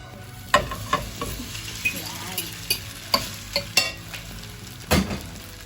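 Korean japchae noodles are stir-fried in sauce over lowered heat: a soft sizzle runs throughout while a utensil scrapes and stirs the pan in regular clattering strokes about every half second, close up.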